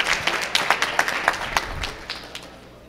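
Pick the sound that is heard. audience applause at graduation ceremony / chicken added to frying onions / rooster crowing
audience applause at graduation ceremony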